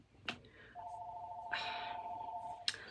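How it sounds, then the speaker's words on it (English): A telephone rings once in a quiet room, a steady electronic tone with a short trill layered over it, faint and somewhat distant, framed by a couple of small clicks. "Phone's ringing."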